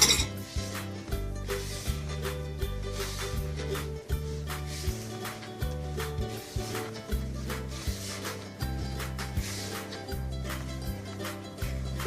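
Kaak dough being mixed with oil in a bowl, giving a steady rhythmic run of soft knocks and clinks against the bowl, fairly loud and close, with no talk.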